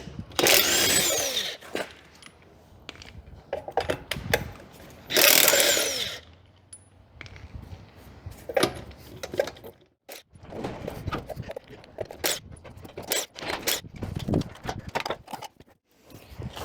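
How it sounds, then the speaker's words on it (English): A DeWalt electric impact gun works on a Toyota's drilled and slotted brake rotor, firing in two loud rattling bursts near the start, separated and followed by scattered metallic clanks and handling knocks. "To try out another Christmas present, my DeWalt electric electric impact gun here."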